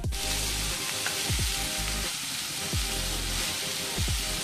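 Bharangi leaves frying and being stirred in a pan with jaggery powder, coconut and coriander, a steady loud sizzle broken by several scraping stirs of the spoon, close up with no talk.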